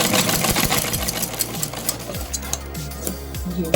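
A sewing machine runs steadily while it stitches the neck strip of a kurta. The motor hums in a low drone with a fast mechanical chatter over it, up close and continuous.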